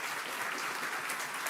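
A startup-event audience gives a round of applause for the partners, a steady wash of many hands clapping close and full for the whole brief moment.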